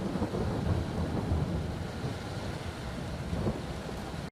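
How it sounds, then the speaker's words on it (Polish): Broad rolling thunder from an approaching summer storm over farm fields as rain begins to fall, a continuous loud rumble with no clear breaks that cuts off abruptly at the end. "zaczęło jeszcze kropić teraz i grzmieć"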